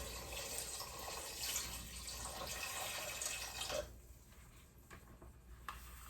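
Water pours in a steady rushing stream into a cooking pot for a few seconds, then stops, leaving quiet drips and faint splashes.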